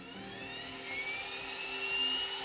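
Kodiak 900 turboprop with a PT-6A-140A engine, a high whining turbine tone with rising pitch over a steady engine roar that swells slightly, close and loud with no talk.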